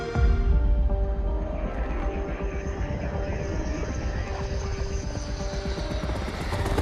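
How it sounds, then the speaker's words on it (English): Military aircraft engines and rotor drone in the opening of the Crossfire X game, a steady loud hum with tonal whine, sustained throughout without pause. "Anytime the game start with military planes."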